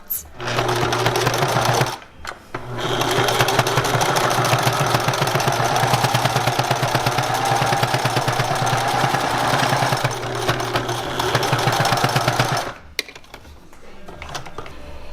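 A sewing machine stitches a fabric face mask in a steady, loud mechanical whir that runs almost continuously, broken by one short pause early on and stopping near the end.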